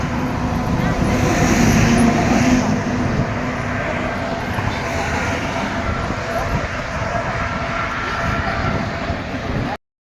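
Steady car engine hum and road rumble heard from inside a moving vehicle, a continuous broad drone lasting throughout, with voices speaking over it.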